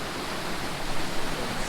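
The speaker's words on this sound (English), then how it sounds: "Gitgit Waterfall. Look at this place. This is huge." Gitgit Waterfall, a large waterfall, roars as a steady, dense broadband rush, close and continuous with no voices over it.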